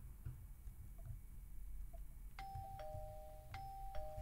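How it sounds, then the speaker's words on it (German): A Minecraft doorbell from the Little Tiles mod house rings twice, each a clean two-tone ding-dong chime that rises over a faint, low background rumble. "Jetzt habe ich da eine Klingel."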